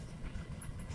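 Argo Wilis passenger train passing near Cibatu, Indonesia, a brief low rumble of wheels on rails with a faint hiss, heard from trackside.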